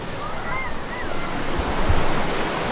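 Ocean waves wash up on the shore at La Jolla, California, a broad, continuous rushing surf close by with some wind noise over the microphone.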